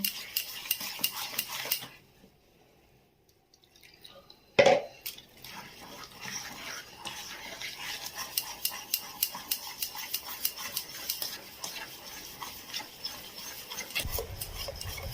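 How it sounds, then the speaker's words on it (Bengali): A rice flour and water batter is whisked in a bowl with quick, rhythmic scraping strokes. The strokes start after a short quiet stretch and a single sharp clank. "চালের গুঁড়ো, আর জল দিয়ে দিয়ে এটা একটা ব্যাটার তৈরি করতে হয়"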